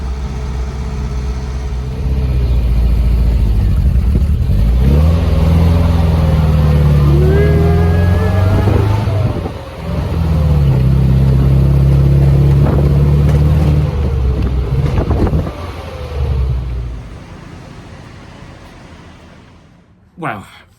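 Mk3 Scamp car engine idling on choke after winter: a loud, close, steady low rumble with wind buffeting the microphone, briefly dipping midway, while someone talks over it throughout.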